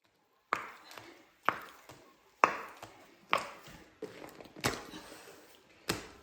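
Two people knead village bread dough by hand in a Tokat village, one adding water as the other works it. Seven close, sharp slaps and thumps land about a second apart, with quiet gaps between.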